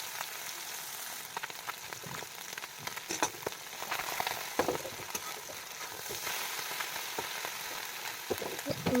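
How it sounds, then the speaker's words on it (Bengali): A big fish fries in hot oil in a wok, with a soft, continuous sizzle and scattered crackles and pops throughout. "দিয়ে দিলাম কড়াই গরম হতে, দিয়ে দিচ্ছি তেল। এবার বড় মাছটা আগে ভেজে নেব।"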